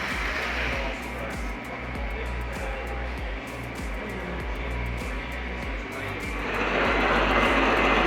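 A Lionel Bluetooth four-digit prototype steam locomotive runs on a model layout, giving a steady loud mechanical rumble with rhythmic chuffing pulses that swell louder near the end.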